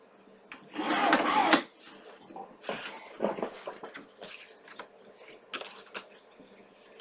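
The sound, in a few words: trimming the top piece of an album cover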